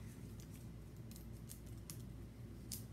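Scissors snip through craft material for a Christmas window decoration, a few quick crisp cuts spaced over a low steady background hum.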